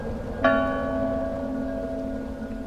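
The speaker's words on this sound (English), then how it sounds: "The first stroke of the bell rolls out over the sleeping city, deep and full" A church bell in a tower tolls once over a medieval city at night, a deep, resonant single stroke whose humming overtones ring on and slowly fade against a quiet background.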